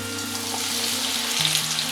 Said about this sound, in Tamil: இப்போ இதை எண்ணெயில் பொரித்து எடுத்துக்கலாம்.